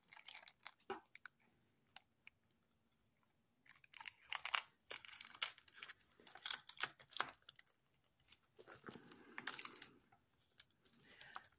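Resin craft pieces being cut apart, giving close, quiet, irregular crunchy snips and clicks in scattered bursts with short pauses between them.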